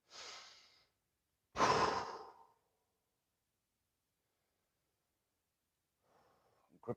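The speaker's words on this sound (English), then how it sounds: "Take a couple breaths." Slow breaths during a yoga grounding practice on a mat: a long exhale, then a deeper audible sigh-like breath about a second later, then quiet, with faint soft breathing near the end.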